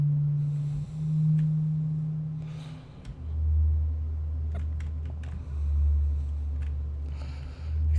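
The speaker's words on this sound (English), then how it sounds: "You can see it's a sine wave." Steady electronic sine-wave tones from a modular synth built in Unreal Engine Metasounds, one low pitch giving way to a lower sustained hum, with faint clicks of a computer keyboard and mouse over the top.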